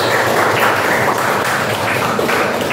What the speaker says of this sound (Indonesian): Tepuk tangan buat Sutrisna.